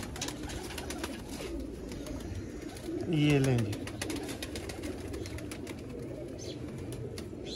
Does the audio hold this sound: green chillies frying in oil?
no